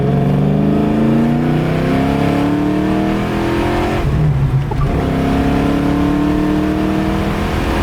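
A Ford Mustang Foxbody revs and accelerates hard from the driver's seat, its loud engine note climbing steadily in pitch, dropping briefly at a shift about halfway through, then pulling up again.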